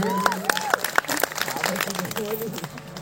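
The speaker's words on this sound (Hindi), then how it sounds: "जोरदार ताली बजा देने के लिए" An audience at a religious katha gathering claps in scattered, uneven bursts, with sharper individual claps near the start, while a voice and music carry on beneath.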